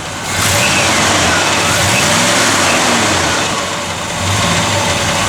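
A 1970 Chevrolet Malibu with a 400 engine revs up from idle to a loud, sustained roar close by, sagging briefly near the end before climbing again.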